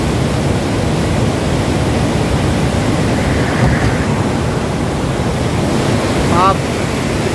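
Fast, heavy river water rushing through the Head Marala headworks, a steady broadband roar that stays loud and continuous throughout, with a brief faint whistle-like tone near the end.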